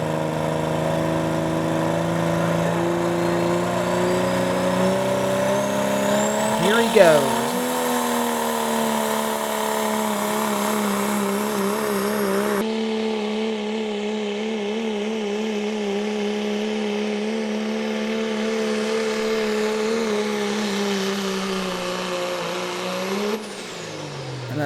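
A 1991 Dodge pulling truck called Bad Company roars steadily down the track at a truck and tractor pull, its engine droning loud and continuous with a brief rev spike, while an announcer speaks briefly.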